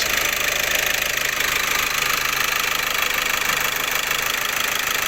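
A diesel car engine runs during an EGR repair check, heard close and loud as a steady, dense drone with a continuous mechanical clatter. No clear rise or fall in engine speed stands out.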